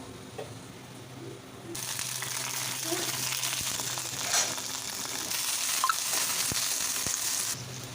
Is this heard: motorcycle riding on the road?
no